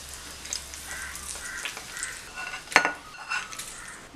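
A spoon stirs tempered green chillies into curd for curd rice, making soft wet scraping with light metallic clinks against the bowl, faint and close, with a sharper clatter midway and at the end.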